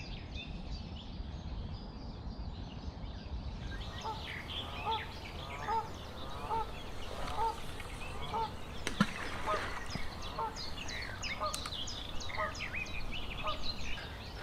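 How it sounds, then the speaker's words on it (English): Ducks quacking by a carp fishing lake in the morning, a run of faint, fairly distant honking calls spread through the clip over a low background rumble, with a brief sharp knock near the middle. "it was 9:30 when the ducks found me again"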